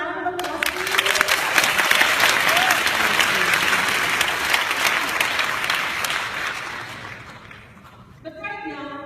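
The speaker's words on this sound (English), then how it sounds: "Can you just give yourselves a round of applause, please?" An audience bursts into sustained applause, a dense roar of many hands clapping that stays loud for about eight seconds before fading, with a voice briefly audible near the end.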